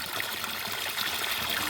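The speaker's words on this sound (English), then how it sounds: "The water comes from that side. It's a kind of a spring." Spring water seeps out of the soil and trickles into a small pool in a Kenyan village, a steady, close, hissing babble with no voices over it.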